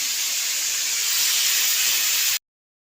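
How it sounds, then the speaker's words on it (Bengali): Cumin seeds sputtering in hot oil while making vegetarian khichuri, a steady, close, bright sizzling hiss that holds evenly for over two seconds and then cuts off abruptly. "জিরে ফুটছে"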